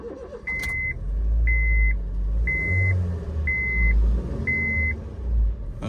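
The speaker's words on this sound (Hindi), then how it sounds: "गाड़ी का फंक्शन चेंज करने के बाद पूरी गाड़ी का साउंड ही चेंज हो गया है" Car engine idling and pulling through a test drive after a gearshift vibration fix, a steady low rumble swelling and easing, with a short electronic beep repeating about once a second throughout.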